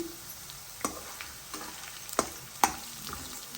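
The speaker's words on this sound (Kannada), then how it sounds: "ಈಗ ಹಸಿ ಬೇಳೆ ಶೇಂಗಾ ಬೇಗ ಹಾಕ್ಕೊಂಡು ಹುರ್ಕೋತಾ ಇದ್ದೀನಿ" Raw dal and peanuts fry in oil alongside onion for capsicum lemon rice. There is a soft, continuous sizzle broken by a few sharp pops and stirring clinks, with no one talking.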